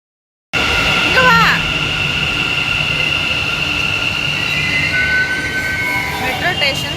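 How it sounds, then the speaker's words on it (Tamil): A metro train rumbles loudly and steadily nearby, with squealing wheels and high tonal whines from the rails and motors. "மெட்ரோ ஸ்டேஷனுக்கு வந்திருக்கோம்."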